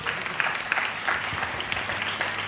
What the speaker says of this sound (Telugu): ఏంటి చప్పగా కొడుతున్నారు?